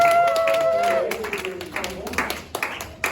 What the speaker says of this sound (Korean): 우리 들어가는 길도 우리 박수로 우리 축하하도록 하겠습니다